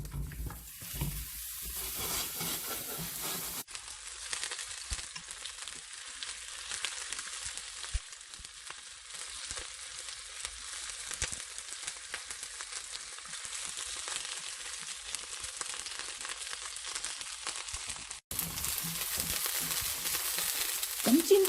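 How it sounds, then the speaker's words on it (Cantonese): Beef meatballs pan-frying in a hot wok give a steady, close sizzle that runs throughout, with occasional stirring scrapes and a louder, brighter spit at the start and end. "咁先煎一煎呢個牛肉丸。"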